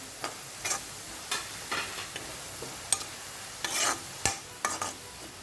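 Chili powder being stirred into carrots frying in a pan, with intermittent scraping strokes of a spoon over a soft sizzle and short irregular bursts with quiet gaps.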